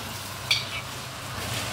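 Onions are stir-fried in a wok with a little dark soy sauce, making a soft steady sizzle close by with a brief scrape of the spatula, and no talking.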